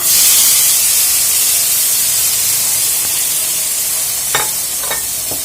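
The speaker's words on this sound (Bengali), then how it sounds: "এখন কাটলে বিচিগুলা ঢেলে দেব।" Cut seeds frying in a hot pan, a loud steady sizzle and hiss throughout, with a few faint stirring clicks near the end and no talk.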